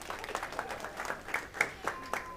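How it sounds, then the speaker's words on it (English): A comedy-club-style audience gives itself a round of applause: brief, scattered claps ring out across the room, mixed with a speaking voice. "Give yourselves a big round of applause."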